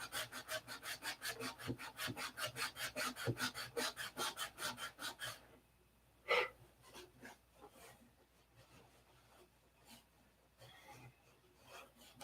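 Rhythmic back-and-forth rasp of sanding on aircraft fillets, steady strokes for about five seconds, then a pause, a single sharp scrape and a few scattered lighter passes.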